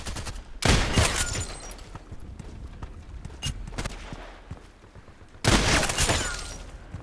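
In the shooter game Contract Wars, two loud bursts of gunfire ring out several seconds apart, with a few lighter single shots and clatter between them.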